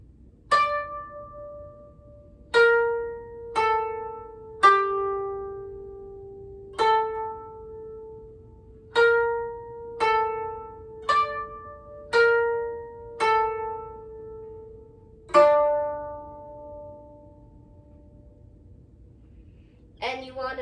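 Koto plucked in a beginner's rendition of the children's song Usagi (Rabbit), single clear notes ringing out one at a time with long decays and gaps, slow uneven phrasing, close and alone with no talk.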